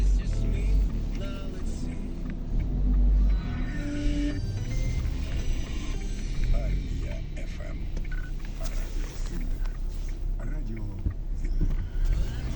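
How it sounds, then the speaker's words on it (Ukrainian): Traffic on a Kharkiv city street in the evening, cars rumbling and swishing past continuously with a low engine drone throughout. "Так, ось машини."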